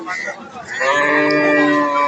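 A Sahiwal bull with some Gir cross moos loudly and close at a cattle market, one long drawn-out call swelling in strength and holding steady to the end.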